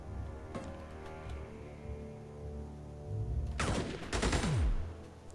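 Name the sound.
gunfire from the video game Steam Marines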